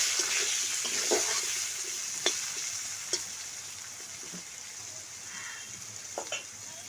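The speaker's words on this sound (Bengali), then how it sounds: "দিয়ে ভালো করে ভেজে নিচ্ছি" Steady hissing sizzle of potatoes frying in hot oil, with occasional soft clinks and scrapes, close and continuous.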